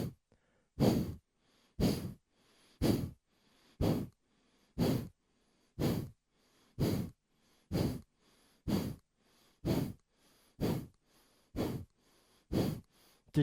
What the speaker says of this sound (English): And then the exhale breath